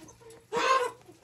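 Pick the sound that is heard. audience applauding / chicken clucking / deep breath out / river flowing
chicken clucking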